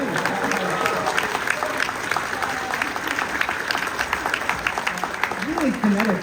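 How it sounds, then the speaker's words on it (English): Convention panel audience at New York Comic Con applauding a comic artist, a dense crowd clapping over chatter and cheering, with voices and a speaker talking through it. "I feel like you guys should give him a huge round of applause"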